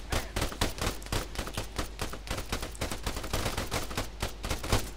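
Gunfire and explosions from a firefight in the military game Arma 3, played as a single-player mission on Tanoa. Dense, continuous volleys of rapid shots crackle throughout, steady and loud with no pauses.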